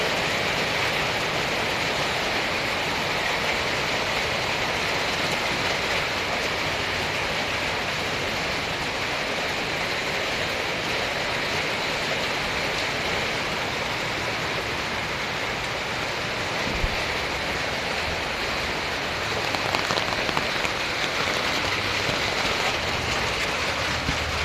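Steady rain falling in a continuous, even hiss throughout, moderately loud and close, with a few small knocks and no voices.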